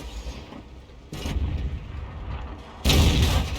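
Tank cannon firing standard AP rounds from an Object 268 in World of Tanks, heavy booming shots over a low rumbling background, with a loud near blast at the end and a second hit earlier.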